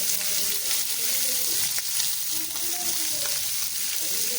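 Fenugreek leaves, tomato and chilli sautéing in a hot pan, a steady broadband sizzle running the whole time with a few soft scraping stirs, close and continuous, no talking.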